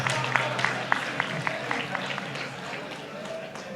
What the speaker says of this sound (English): On a loud clap for the Honorable